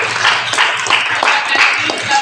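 A classroom audience claps for group 3, with steady, bright applause running throughout and brief voices mixed in.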